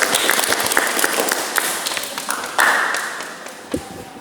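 A classroom of students claps together in a vocational automotive lesson, brief loud hand claps with sharp taps, fairly near and fading out over a few seconds.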